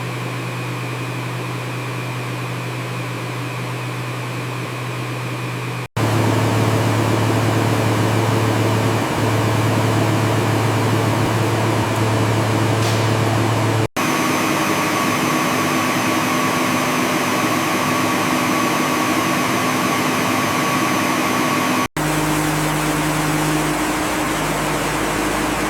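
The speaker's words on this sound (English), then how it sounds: "The stabilized material moves into industrial grinders." Multi-stage industrial steel crushers with rotating blades and high-torque motors grind worm protein biomass. A loud, steady droning roar with humming tones runs through several abruptly cut sections, with no talk.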